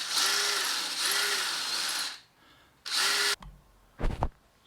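A power drill enlarging a hole in metal near a motorcycle's manifold whines in several short bursts, two longer runs, a pause, then another burst, followed by brief clattering mechanical knocks.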